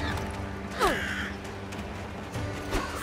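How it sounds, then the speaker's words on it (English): Crows caw in the video game Vikings: Wolves of Midgard, a couple of harsh, downward-sweeping calls standing out over a steady game ambience, with no talking. "There's so many birds behind me"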